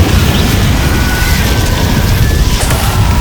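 Spell explosions in Hogwarts Legacy on Xbox Series S, a loud, sustained rumbling boom with crackling blasts layered over deep low-end, no speech.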